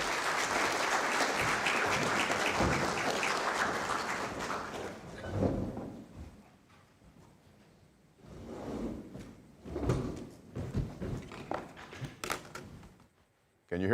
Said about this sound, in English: Let's give Professor Griffith a better round of applause.